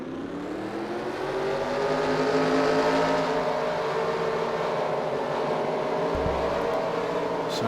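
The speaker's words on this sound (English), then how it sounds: "Drivers, start your engines!" Race car engines in a NASCAR-style racing video game at Oswego, a dense field of cars droning together with a steady, layered roar and rising harmonic whine that holds loud throughout.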